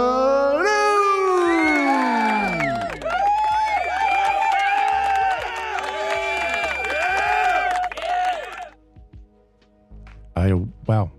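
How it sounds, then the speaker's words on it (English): A basketball arena crowd cheers and shrieks for a team mascot, loud high-pitched screaming and yelling from many young voices, then a near-silent gap broken by a few short shouts. "now stand and cheer for your Portsmouth Force mascot, Blue."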